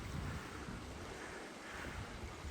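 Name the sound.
rushing water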